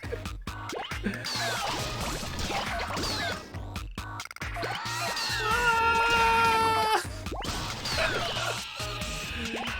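Small figures shrieking in the video game Katamari Damacy, a busy run of high, wavering cries and crashes over bouncy game music, with a sustained, loud stretch of overlapping shrill tones in the middle.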